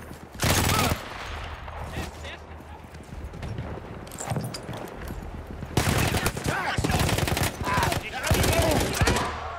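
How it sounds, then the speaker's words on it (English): Bursts of rapid automatic gunfire from a double-barreled light machine gun in the video game Battlefield 1, loud heavy volleys separated by quieter stretches of battlefield noise and scattered shots. "A double barreled LMG."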